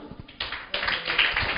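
A church congregation claps together in worship, the claps loose and overlapping as they swell to a steady, fairly close burst that fills the room.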